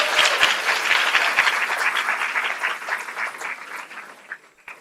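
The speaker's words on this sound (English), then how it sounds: "Can we have a round of applause for all our presenters for the day?" Applause from a symposium audience for the day's presenters at an Indian River Lagoon meeting, a full round of clapping that gradually thins out and dies away to a few last claps.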